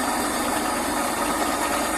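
A three-phase electric motor runs steadily in a workshop. The whirring hum is loud and constant, with a dense, even texture and no pauses, and no voices are heard.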